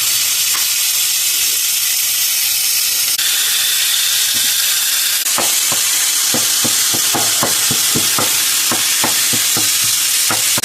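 Ground hamburger meat browns in a skillet with steady sizzling and frying hiss, broken by a run of sharp scraping stirs and clicks from a utensil against the pan, close and fairly loud.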